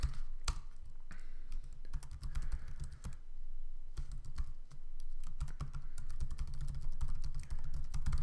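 Rapid, steady typing on a computer keyboard while a site name is entered, the close clicking keystrokes running continuously with a few brief pauses and no talking.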